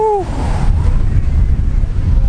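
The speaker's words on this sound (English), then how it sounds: "it is super windy" Strong wind on a beach buffets the microphone with a loud, steady roaring rumble that continues without a break, after a brief tone at the very start.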